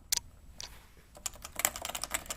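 Someone types on a Topre Type Heaven keyboard: a few isolated soft key presses, then a quick run of muted, damped keystrokes in an irregular rhythm. It is close and quiet, with no speech.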